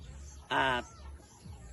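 A single short, loud clucking call from a farm chicken, a stag kept in a fowl setup, stands out briefly against quiet background noise.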